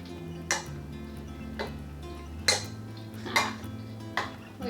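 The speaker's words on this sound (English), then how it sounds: "all we're going to do is just put a lid on each one" Metal lids are set one at a time onto glass canning jars of raw-packed beef stew meat, making five sharp clinks at an uneven pace over a quiet background hum.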